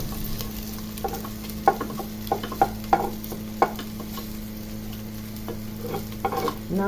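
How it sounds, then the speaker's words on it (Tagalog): Pork sizzles as it fries in its own rendered fat, with a steady close frying hiss broken by several sharp scraping stir strokes of a utensil against the pan; no one speaks. "pinamantika natin siya sa sarili niyang mantika"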